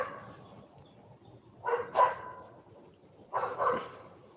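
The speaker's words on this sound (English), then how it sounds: "those three that bark, that's Maynard, Frank, and Toby, my neighbor's dogs" Three neighbor's dogs barking at a distance in two short clusters of barks separated by quiet, faint outdoor background between them.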